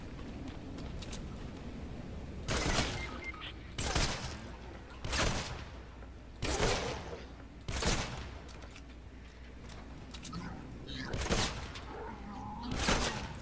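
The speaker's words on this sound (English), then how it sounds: "Some guns can shoot through enemies, so you can get like double headshots like that." Gunfire from the video game Fortnite comes as sharp, loud bursts repeating roughly every second or so over a low steady in-game background.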